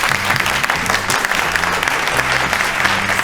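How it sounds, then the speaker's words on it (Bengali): Studio audience on a Bengali family game show claps loudly and continuously, with a low musical backing running under the dense applause. "জোরে হাততালি।"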